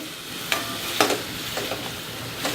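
Crushed shallots sautéing in a pan for mutton curry, a constant sizzle punctuated by several sharp spatula scrapes and taps against the pan, close and moderately loud, with no talking.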